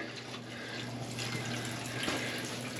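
Water pours steadily into a washing machine filling for a small load of dirty work clothes at an off-grid solar-powered home, a continuous close rushing hiss with no talking.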